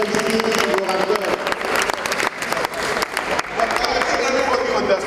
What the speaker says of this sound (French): Nous applaudissons pendant que nous accueillons ici l'orateur.